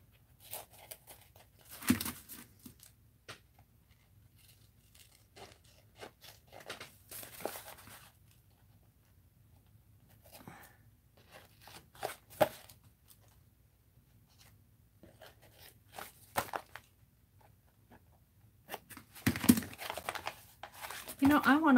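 Paper for an art journal page is trimmed, giving scattered crisp cuts and crinkling rustles at close range with quiet pauses between them, under occasional talk.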